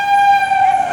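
Train horn sounding loud and close in one sustained, steady tonal blast as a train passes.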